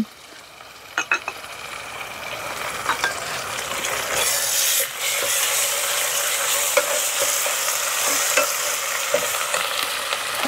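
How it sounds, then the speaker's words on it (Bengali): Garlic and cumin paste frying in a pan, a steady sizzle with intermittent scraping stir strokes, close and loud with no talk. "এটা রসুন বাটা দিচ্ছি, এটা টেবিল চামচ সমান, আর হলো জিরা বাটা, জিরা বাটা দিলাম"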